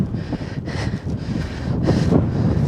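Strong gusting wind at Rohtang Pass, high in the Himalayas in extreme cold, roars and rumbles against the microphone in uneven surges, close and fairly loud, with no one speaking.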